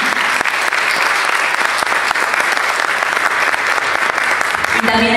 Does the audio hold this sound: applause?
yes